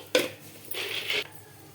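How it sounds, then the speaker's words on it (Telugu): Dry peanuts dropped into a steel mixer jar make a sharp clink, then a short scattered rattle of nuts settling, close and fairly quiet. "ఇంకా ముందుగా మిక్సీ జార్ తీసుకొని పల్లీలు అయితే వేసుకుంటున్నానండి"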